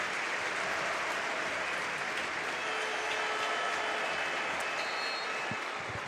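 A stadium crowd at a Barcelona football match against Mallorca applauds in a steady, broad wash of clapping that holds evenly for several seconds, distant and diffuse.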